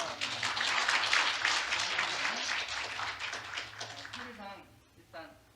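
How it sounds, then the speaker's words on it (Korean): Audience applause in a lecture hall at an arts education policy workshop, a dense round of clapping that gradually thins out, with a little talk coming through near the end. "박수 한번 주시기 바랍니다"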